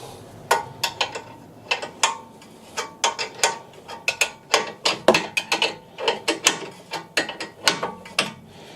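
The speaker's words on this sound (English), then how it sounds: "tighten this nut down with an 18mm spanner or socket, tighten it up to the correct torque setting" An 18mm socket ratchet tightening the steering nut on a Porsche 996 C4S gives loud, close, rapid clicking in uneven bursts of pawl ticks with short pauses between strokes, no voices.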